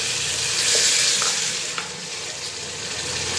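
Garlic-onion paste fries in a pan as chopped tomato goes in, giving a broad, close, steady sizzle and hiss that briefly drops as the tomato lands, then continues evenly.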